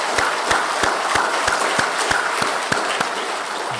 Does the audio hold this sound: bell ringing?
no